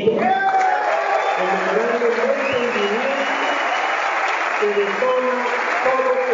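An assembly applauds after news of a signed memorandum of understanding: dense, steady clapping that fills the whole stretch while a voice keeps speaking over it.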